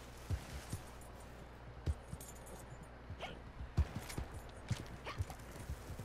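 Scattered hoof clops from a horse on a road, irregular and fairly close, spaced out among quieter moments of background noise.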